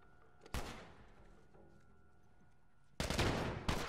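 Assault rifle fire in The Last of Us, with two loud, broadband bursts, one short near the start and a longer sustained volley at the end, separated by quieter game ambience with a faint steady tone.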